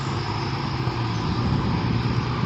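A dump truck engine drones steadily with a low rumble and broadband noise, holding a constant, fairly loud level throughout as it approaches.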